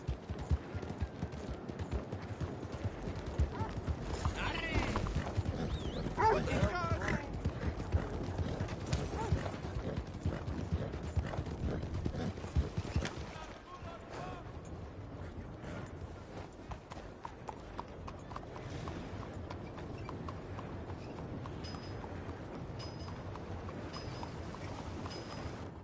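In the Western video game Red Dead Redemption 2, a horse's hooves clip-clop in a steady walking rhythm. The sound is fairly close for about thirteen seconds, then quieter ambience continues.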